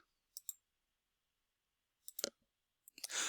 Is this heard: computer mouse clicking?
yes